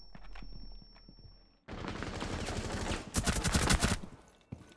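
Gunfire from the Rainbow Six Siege tactical shooter, loud sustained bursts of rapid shots cutting in after a quieter opening, with a sharper dense volley near the end.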